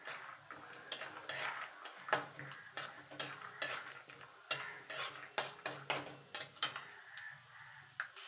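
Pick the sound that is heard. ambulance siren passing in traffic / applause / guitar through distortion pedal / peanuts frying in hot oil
peanuts frying in hot oil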